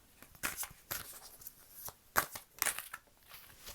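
Tarot cards shuffled by hand in a series of quick, crisp riffles and snaps, close and fairly quiet, spaced unevenly with no talking.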